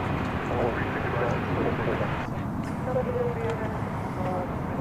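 A Turkish Airlines Boeing 787-9 Dreamliner jet airliner at DFW Airport produces a steady, distant engine rumble under faint background noise, with brief higher tones passing through.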